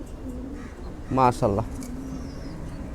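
Pigeons in a loft give two short throaty coos close by, over a quiet background with faint bird chatter, while someone speaks briefly.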